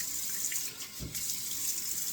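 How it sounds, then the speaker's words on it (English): Running tap water with a brief splash of cold water in the middle before shaving, steady hissing flow throughout. "Start with 2 splashes of cold water"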